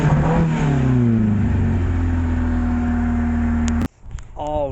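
A car engine fitted with a newly installed cold air intake revs up from idle, its pitch rising then holding steady at a loud, even drone for a few seconds before abruptly cutting back, followed by faint rustling noise.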